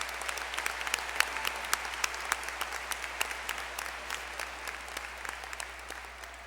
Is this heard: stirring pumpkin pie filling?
no